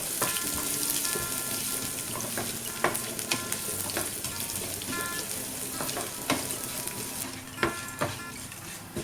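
Large chopped garlic sautés in a pan for a Kerala-style beef fry, giving a steady, close sizzle broken by sharp clicks of a spoon stirring against the pan.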